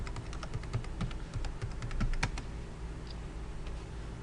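Someone types on a computer keyboard, a steady run of light close key clicks with a few harder strokes, then trailing into a pause.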